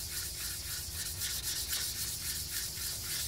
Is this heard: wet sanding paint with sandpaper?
yes